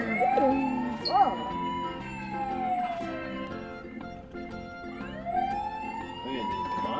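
A toy police car siren wails in rising and falling sweeps, fairly close and moderately loud, with adults and a child chattering over it in a store.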